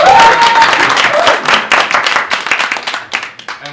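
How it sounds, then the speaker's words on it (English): An audience at a curated panel discussion on generative AI and authorship breaks into dense, close clapping that starts strong and gradually thins and tapers off over a few seconds, with a faint voice briefly underneath. "Well, thanks for the applause, everybody."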